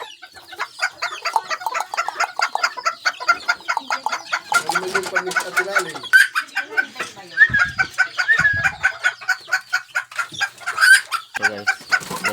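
A brooding hen clucks close by in a rapid, repeated stream of short clucks lasting throughout, with a few louder squawks mixed in.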